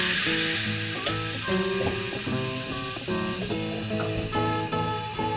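Sausage browning and stirred in a pot for Louisiana seafood gumbo, a loud continuous sizzle and crackle layered with bright metallic tapping and scraping of a utensil, close up and without talk.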